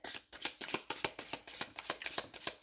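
Tarot cards are shuffled for a six-card draw, a quick riffling patter of about a dozen crisp bursts in a steady rhythm, close and alone.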